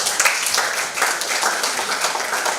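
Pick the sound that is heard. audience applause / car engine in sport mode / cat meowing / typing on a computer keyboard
audience applause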